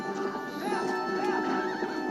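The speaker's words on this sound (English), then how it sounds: "Get on the horse." A horse in the Zelda game Twilight Princess gives a loud, wavering whinny over continuous in-game sound and a steady background tone, with faint hoof clatter in the mix.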